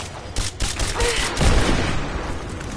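Gunfire and a grenade blast in the video game Rise of the Tomb Raider: a dense, loud burst of shots with booming impacts filling the whole stretch, and a brief voice cutting in partway.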